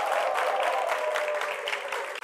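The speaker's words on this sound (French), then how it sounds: "On s'applaudit." A studio audience gives a brief, dense burst of applause at the close of a televised debate show, the clapping steady and full before cutting off abruptly.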